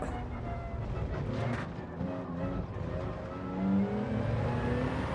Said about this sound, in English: it feels a lot easier to drive this Supra now.